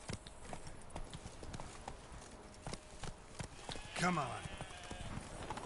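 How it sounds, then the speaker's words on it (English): Horse hooves in The Witcher 3 clop in a steady run across the whole stretch, with a loud snort or whinny near the end, while someone speaks briefly over the gallop. "Hop on the horse."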